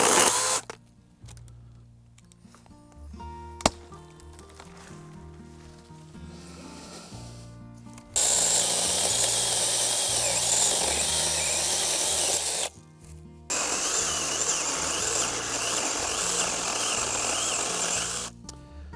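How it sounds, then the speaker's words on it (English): A 6-inch brushless battery chainsaw cuts through prickly pear cactus in two loud, steady bursts of close motor whine and cutting, separated by a short pause and opened by quieter handling noises. "So the Immobilized Live chainsaw 6-inch is a brushless wonder."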